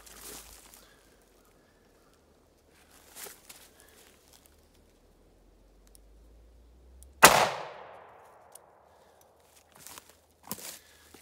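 A Ruger LCR revolver fires one round of Remington Ultima .38 Special +P hollow point into a gel block, a single sharp, loud report with a long decaying tail, set among quiet shuffling and footsteps before and after.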